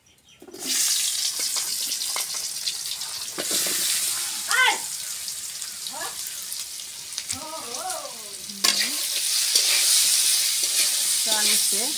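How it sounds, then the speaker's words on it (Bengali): Brinjal slices fry loudly in a hot pan with a strong, continuous close sizzle, punctuated by occasional stirring clatter and brief squeaky tones. "এখন বেগুন ভাজবো।"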